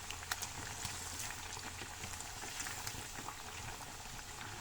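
Paneer pieces shallow-frying in hot oil for Kashmiri Wazwan-style paneer, a steady close sizzle and crackle with scattered sharp pops, no talk.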